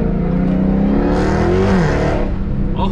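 A 2020 Dodge Charger Hellcat with a Corsa Extreme catback exhaust, driven in sport mode with manual shifting, revs loudly and continuously from inside the car, its rising engine note swelling during acceleration and then easing off.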